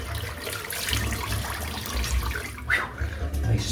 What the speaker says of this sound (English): Splash of cold water.